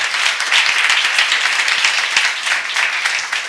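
A church congregation at a seminar on Ephesians claps loudly and continuously, a dense, close wash of many hands with a few distinct sharp claps poking through.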